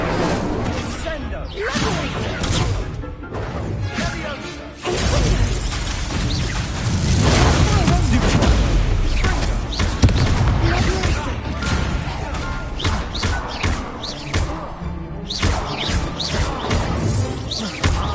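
An Incendio fire spell is cast in Hogwarts Legacy, a loud, dense burst of whooshing, booming fiery blasts and crashes that keeps going with little break, with a voice now and then.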